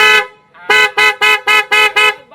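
The car horn of a Mahindra Bolero BS6, just after its blown 15-amp horn fuse was replaced, gives one long blast and then six quick, loud, evenly spaced honks close by.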